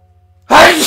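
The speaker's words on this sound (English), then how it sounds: "That was a powerful sneeze." A single loud, close sneeze bursts in abruptly after a faint low hum, a sharp explosive blast that trails off into breathy noise.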